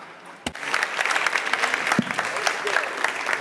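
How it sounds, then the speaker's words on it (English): Audience applause at a live talk event, a dense steady spread of clapping from a crowd lasting throughout, with a couple of sharp louder claps near the start and middle and a voice briefly over it. "Big round of applause."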